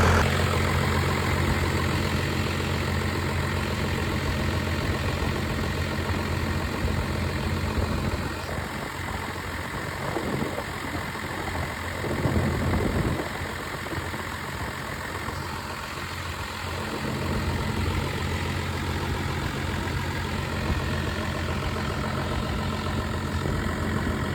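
A Cummins diesel truck engine idles steadily while warming up, its low, continuous rumble close and even throughout, with no voices.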